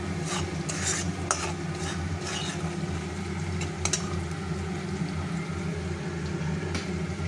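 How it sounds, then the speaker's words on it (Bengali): Oil for hilsa fish sizzles steadily in a pan, a continuous crackling fry with occasional sharper pops and spatters, close and moderately loud, with no talking. "পাশে মাছের তেলটা ভাজা হচ্ছে"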